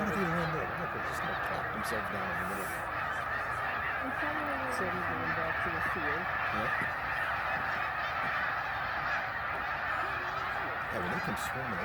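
A huge flock of snow geese honks continuously at a wildlife refuge during migration, a dense, distant wall of overlapping calls with people talking faintly beneath.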